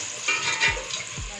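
Onion frying in a pan while cooking mixed vegetable rice, a soft sizzle with a couple of quick stirring scrapes, quiet and close.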